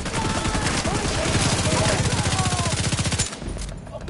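Rapid automatic turret fire rattles in a PS4 video game, a dense, loud, continuous stream of shots that cuts off abruptly near the end, with game audio beneath.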